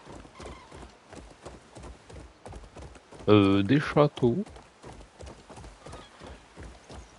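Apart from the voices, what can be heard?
horse hooves clip-clopping in video game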